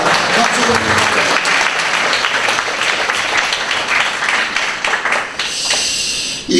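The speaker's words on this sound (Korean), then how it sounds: "박수 좀." Sustained applause from a church seminar congregation during a Korean healing-ministry testimony, a dense steady clatter of many hands that fills the whole stretch and thins slightly toward the end.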